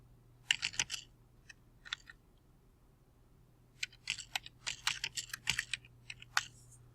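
Typing on a computer keyboard to enter a program comment for a CNC job on a 3/4 inch board: quick clusters of close, crisp key clicks, a short burst, a pause, then a longer run of keystrokes over a low hum.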